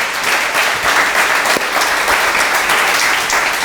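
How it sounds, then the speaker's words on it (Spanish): A church congregation applauds during a sermon, a broad sustained roar of many hands clapping at full strength throughout, close and loud, with no voice standing out. "Dele aplauso a Jesús."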